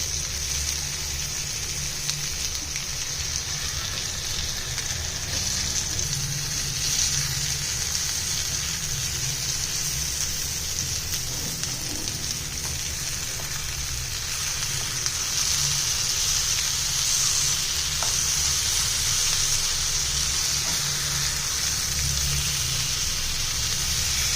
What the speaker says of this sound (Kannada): ಈಗ ಪನ್ನೀರ್ ಎರಡೂ ಕಡೆನೂ ಫ್ರೈ ಆಗಿದೆ.